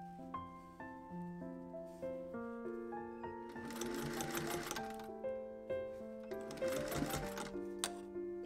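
Sewing machine stitching bias tape binding around the curved edge of a simple two-seam vest, with steady bursts of whirring needle runs over a background of tonal humming, no voices.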